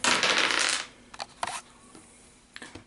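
Dice clatter across a table during a Pathfinder Skull and Shackles card game, a dense rattling burst followed by a few scattered clicks as they settle.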